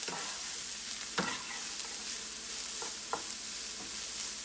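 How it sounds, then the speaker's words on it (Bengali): Salt is mixed into a vegetable filling for veg Mughlai paratha, with soft scraping stirs and a few light spoon taps over a steady low hiss. "এবার খুব ভালো করে মিশিয়ে নেব"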